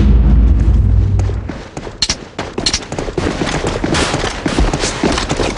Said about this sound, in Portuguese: É um tiro, mano